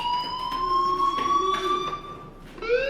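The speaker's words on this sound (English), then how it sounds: "do you hear that fire alarm? That means you should be outside." A fire alarm in the video game Life is Strange rings steadily with a high electronic tone that wavers slightly, carrying on for the full stretch and briefly shifting pitch near the end, with no voices over it.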